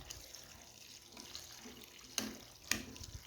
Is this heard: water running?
yes